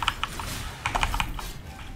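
Quick, light clicks of a computer keyboard being typed on, an irregular patter of keystrokes close by and fairly quiet, with no talking.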